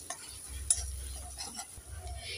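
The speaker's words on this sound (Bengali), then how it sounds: "এখানে আমি মশলাটাকে 3 মিনিট ভালো করে কষে নেব।" Spice masala being stir-fried in a pan for Bengali aloo dum, a quiet, close sizzle with soft scraping strokes and a few light clinks of the spatula.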